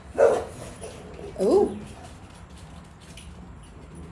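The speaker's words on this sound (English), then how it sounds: "my dogs just started barking" Pet dogs bark in two short bursts near the start and again around a second and a half in, set against a quiet room with a brief spoken exclamation.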